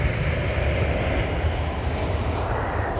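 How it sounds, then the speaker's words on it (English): Boeing 777 airliner engines roar steadily at Heathrow Airport, a loud, broad, continuous rumble with a hissing jet wash, sustained without a break and with no voices. "Big noisy 777."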